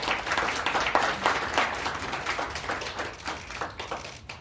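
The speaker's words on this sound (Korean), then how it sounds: "박수로 모시겠습니다" Steady applause from a crowd, dense clapping that holds at an even level throughout without pause.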